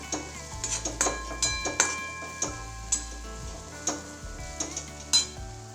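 Turmeric and red chilli powder stirred in a frying pan: a spoon scrapes and taps the pan in a steady rhythm of soft clicks over a quiet sizzle, with no talking.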